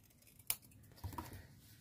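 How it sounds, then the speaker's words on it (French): Scissors cut a piece of decorating material, with a single sharp close snip followed by soft rustling of the cut piece. "Ici, je vais couper un morceau."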